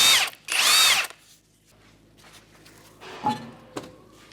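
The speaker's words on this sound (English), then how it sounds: "With a 21mm socket, we're going to remove our lug nuts and our wheel." A power tool with a 21mm socket spins off lug nuts on a 2013 Hyundai Elantra, two loud close whirring bursts, then quiet followed by a couple of metallic clunks and thuds.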